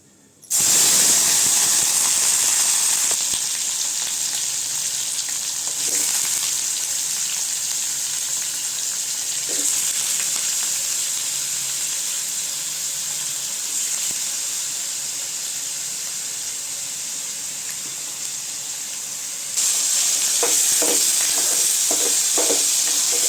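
Washed chicken or mutton liver pieces frying in a hot pan for Tamil kalleeral varuval, a loud, steady sizzle and hiss running throughout, with a few stirring scrapes and a fresh surge of sizzling near the end.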